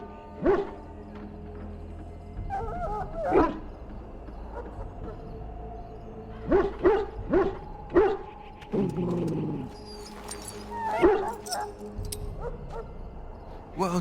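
A dog in a pen in the video game Dragon Age Origins gives several short barks and yips, with whimpering sounds in between over a steady low ambient hum, fairly close and moderately loud.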